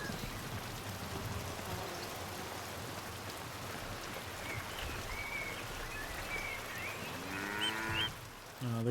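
Steady rain falls across a medieval village scene in the video game Pentiment, a constant broadband hiss with a brief swell near the end, and an animal-like low call rises briefly toward the close.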